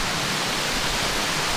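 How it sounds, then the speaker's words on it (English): A steady, dense rush of falling water from a hidden waterfall at Mourne La Croix, close and loud, with no break across the short stretch. "Which waterfall you like? This one or the previous one?"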